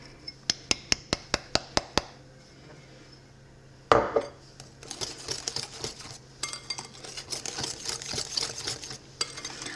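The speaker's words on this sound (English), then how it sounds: "we're just gonna dump it all in and mix it together." Pumpkin pie filling ingredients, including black pepper, are mixed in a bowl. A quick run of evenly spaced clinks is followed by a pour, then steady scraping and stirring that continues to the end.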